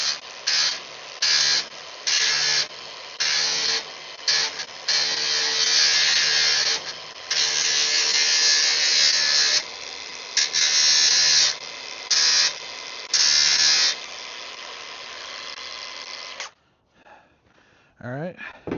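A power tool grinds along the edges of a metal gate before welding, a loud, high whining buzz that cuts in and out in short bursts and longer passes, then stops, leaving a few faint handling noises.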